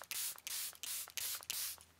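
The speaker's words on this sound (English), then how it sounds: "I'm gonna set the face with my Charlotte Tilbury setting spray." Charlotte Tilbury setting spray misted onto a face in a series of short, close hissing bursts, roughly five or six pumps with brief gaps between them.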